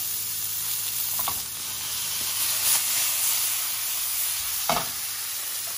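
Butter sizzling steadily in a pan beside a cooked beef fillet, part of a honey-ginger reduced-sauce dish, a continuous close hiss with a few brief clinks and stirring scrapes.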